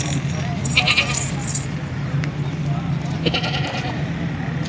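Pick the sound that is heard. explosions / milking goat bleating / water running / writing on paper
milking goat bleating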